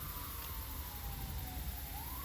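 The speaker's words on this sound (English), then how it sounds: "then these sirens started up, and then they just drove by me" Sirens of passing emergency vehicles wail faintly in the distance, the tone slowly sliding and rising again, over a steady wash of traffic and outdoor noise.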